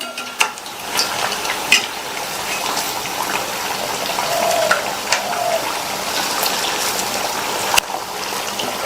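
Suzhiyam sweets fry in hot oil in a steady, close bubbling sizzle, broken by occasional sharp scrapes and clicks as each piece is turned over.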